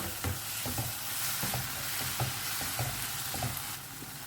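A spoon stirs turmeric and Malvani masala into a curry in a pan, scraping in a steady rhythm of about nine strokes over a constant sizzle, close up, with no voices.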